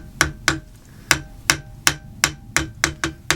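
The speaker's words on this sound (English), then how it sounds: "Just tap it in, make sure that it's" A hammer taps a key into its keyway slot on a high-speed milling head, about ten sharp close blows in an uneven rhythm with short gaps between them.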